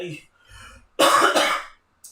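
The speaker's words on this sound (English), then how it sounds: "I still have a bit of a cough" A single harsh cough bursts out after a few soft vocal sounds, then a brief silence.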